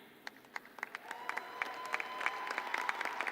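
A crowd at a commencement ceremony for returning graduates claps, first in a few scattered claps and then building into steady applause, heard at some distance.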